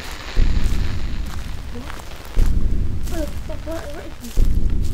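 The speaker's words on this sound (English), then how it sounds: "that's the sound of you dying" The death sound in the Slender: The Eight Pages horror game is a loud burst of harsh static and rumbling distortion that surges in repeated waves, with people talking over it.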